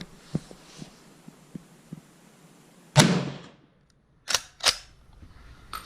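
Bolt action of a Swiss Schmidt-Rubin Gewehr M1911 infantry rifle in 7.5x55mm chambering a round outdoors, a sharp metallic clack followed by two quick mechanical clicks, close and alone after a few faint taps.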